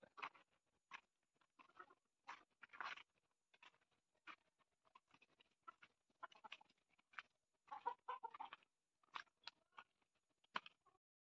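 A country (desi) hen clucks steadily in short, uneven bursts, close by but soft, with no voices over it.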